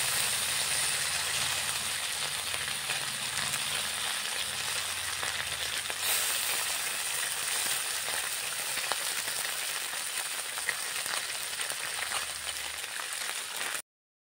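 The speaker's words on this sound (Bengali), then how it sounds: "আমার মাছ ভাজা পুরোপুরি কমপ্লিট হয়ে গেছে" Parshe fish sizzles steadily in hot oil, a constant crackling fry that stays loud and even throughout before stopping abruptly.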